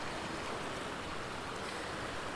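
Steady broadband rush of a flowing stream tumbling over many small waterfalls among slippery rocks, continuous and fairly close with no talk.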